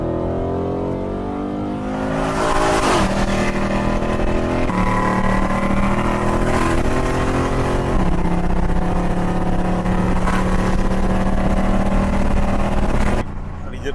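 A Ford Mustang GT with a Roush Stage 2 package and flamethrower exhaust accelerates hard through traffic, its loud, close engine roar climbing through the revs with distinct gear shifts over about fourteen seconds, with a voice speaking over it.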